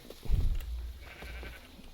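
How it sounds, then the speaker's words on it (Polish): A faint, short sheep bleat from a modded Minecraft OneBlock game, slightly synthetic in tone, rises and fades against quiet background. "Jest jedna owca."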